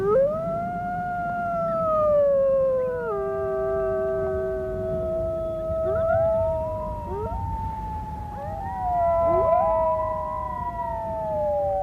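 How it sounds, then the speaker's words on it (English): Wild wolves howl together in long, overlapping, gliding calls. Several voices rise and fall against one another, loud and sustained, with no talk. "the wolf howl is the most evocative and the most mysterious"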